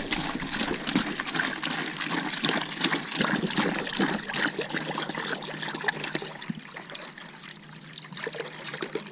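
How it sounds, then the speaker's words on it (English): A bleach and water mixture pours through a funnel into the freshwater tank of a Flagstaff E-Pro E20BHS RV, making a steady close trickle and gurgle that softens toward the end. No voices are heard. "So we're putting the bleach and water mixture into the freshwater tank."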